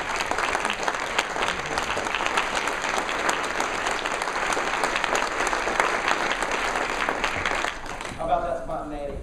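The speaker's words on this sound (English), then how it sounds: "I think they really deserve a standing round of applause" A conference audience at a product management event gives sponsors a standing ovation, loud sustained clapping from a full room that fades near the end as a voice begins talking.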